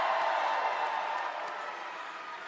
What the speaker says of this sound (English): how about another round of applause for our great Vice President?